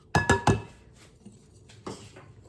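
Utensil clinks against a bowl as one cup of all-purpose flour is mixed into chocolate cake batter, three sharp knocks up front, then softer scraping and a later tap.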